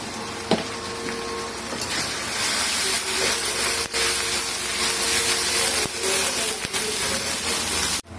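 Ginger garlic paste frying with onions in a pan, a steady loud sizzle and hiss throughout with a few light clinks and scrapes, no talking.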